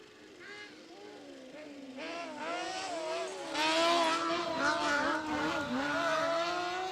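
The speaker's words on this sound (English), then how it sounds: "Just listen to that scream up the hill, the motorbike engine in the back of the cross cart." A high-revving motorbike engine in the back of a cross kart screams steadily while climbing a hill climb course, its pitch wavering and climbing as it works hard, loud and fairly close.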